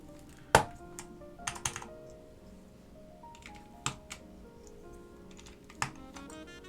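Typing on a restored Northgate Omnikey Ultra-T keyboard with Alps SKCM Cream switches: sparse, quiet clacky keystrokes in irregular bursts with a few sharper louder strikes, alone without talk.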